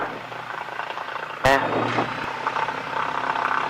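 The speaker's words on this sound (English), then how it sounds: "Okay, so now we're going to slowly apply throttle as we release the brakes." A small training aircraft's engine on the runway throttles up for takeoff, a steady broad engine roar building after a sharp thump partway through, loud and close throughout.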